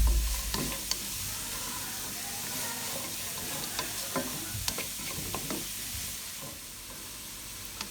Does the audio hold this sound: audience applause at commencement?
no